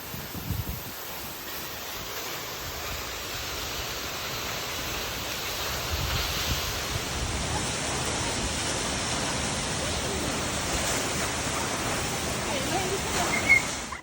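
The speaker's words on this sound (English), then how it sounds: "Backside of a waterfall" Steady, cool rushing roar of a waterfall heard from the sheltered space behind the falling water in Idaho, a broad even hiss with no breaks, close and enveloping.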